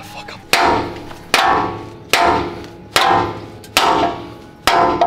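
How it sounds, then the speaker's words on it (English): Six sharp hammer strikes driving the bottom bolt out of a Toyota Tundra spindle, evenly spaced about a second apart, each a loud metallic crack with ringing decay, close by. "You wanna hammer this bottom bolt out?"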